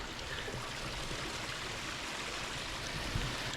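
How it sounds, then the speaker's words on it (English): A small creek runs across a property in a steady, even rush of flowing water, continuous and moderately close with no voices. "Like the little creek that we have here,"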